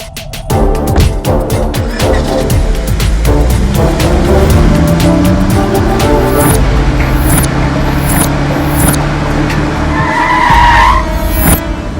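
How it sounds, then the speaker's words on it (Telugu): A car brakes suddenly and its tires skid in a Telugu action film scene, a loud, sustained screech with rumbling engine noise that lasts almost the whole stretch. "ఏంద్రా సడన్ బ్రేక్ వేసిండు?"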